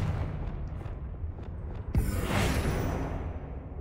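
A Confringo blasting spell goes off in the Hogwarts Legacy video game with a sudden booming burst and a hissing, crackling blast that swells and then slowly fades over a low game ambience.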